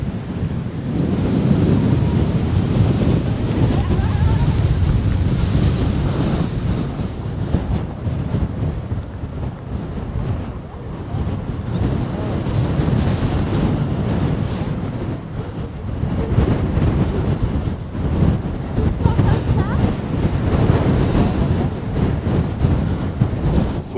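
Strong wind buffets the microphone outdoors on a mild 21-degree day, a loud, continuous low roar that surges and eases in gusts for the whole stretch, with no voices.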